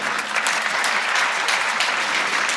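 Audience applause at a Hindi poetry recital, the Basanti Kavyotsav, a dense steady clapping from a crowd that fills the whole stretch without letting up.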